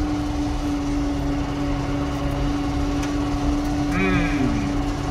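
Tractor engine running steadily in second gear on a muddy farm, a constant close droning hum with a strong steady tone throughout, while a voice speaks briefly near the end.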